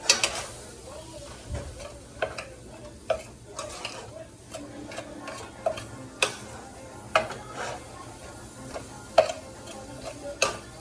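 Seasoned ground beef being stirred in a pan, a spoon scraping and tapping the pan bottom in repeated strokes over a soft simmering sizzle, close and clear, with little talk.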